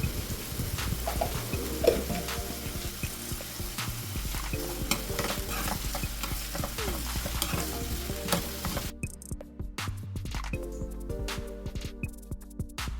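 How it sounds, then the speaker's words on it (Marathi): Chopped onions with a little salt sautéing in oil over low heat, a continuous close sizzle with frequent spatula scrapes and stirring clicks throughout. "आता हे सर्व आपण तेलावर चांगलं परतून घेऊया"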